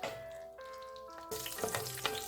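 Cashew nuts frying in ghee in a pan for rava kesari crackle and sizzle steadily up close, growing busier partway through, with a soft tonal hum underneath.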